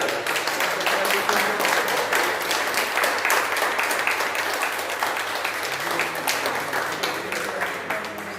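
A crowd at an award ceremony honouring writers, where certificates are handed out, claps steadily in continuous dense applause for the whole stretch, loud and even.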